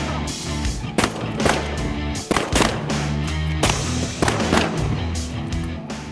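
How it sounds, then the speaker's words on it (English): Shotgun blasts during a waterfowl hunt for geese, several sharp bangs spaced irregularly over steady background noise, fairly close and loud. "They're not doing very good shooting today."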